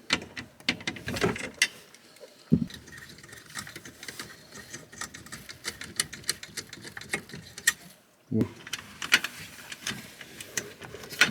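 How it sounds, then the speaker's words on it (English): A ratchet wrench clicks rapidly while removing the steering column bolts on a Saab, two bursts of close, quiet ticking separated by a brief pause. "we're gonna remove the two bolts that hold the steering column on the top"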